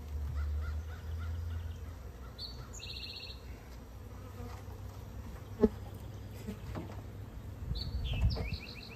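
Soft buzzing of honeybees close by at hive supers, with a few sharp bird caws and calls breaking through in the background.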